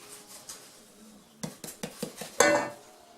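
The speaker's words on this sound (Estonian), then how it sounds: "siia ma segan nüüd ettevaatlikult selle jahu siia sisse" A utensil stirs flour into whipped cookie batter in a bowl, giving a run of sharp, separate clinks and taps from the middle onward, ending in one louder scraping knock against the bowl.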